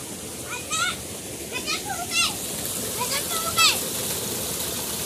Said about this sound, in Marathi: हा झाडाला पाणी चाललेलं आहे